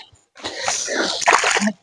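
Water splashes and splatters close by for a second or two as a hand is washed in muddy water, a brief burst of wet rinsing noise after a short pause.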